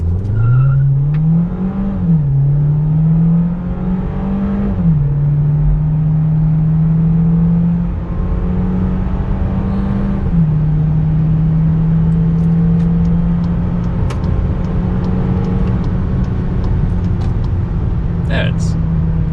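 A 2019 Volkswagen Jetta in sport mode accelerates from 0 to 100 km/h, its engine note climbing loud and close through gear changes with brief dips, then holding a steady drone with faint cabin clicks.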